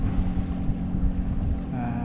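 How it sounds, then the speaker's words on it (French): A sailboat motors at 5 knots on the sea heading for Port-Tudy on Groix, its low engine drone steady beneath heavy wind buffeting and water rush. "Là on fait du 5 nœuds au moteur."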